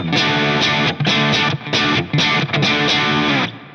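Heavily distorted electric guitar chords strummed in a steady rhythm, thick and crunchy with a full low end, briefly choked between strums before ringing out.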